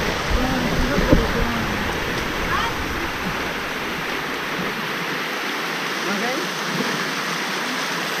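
Aguinid Falls rushes in a loud, continuous roar of cascading water up close, with faint voices now and then beneath the noise.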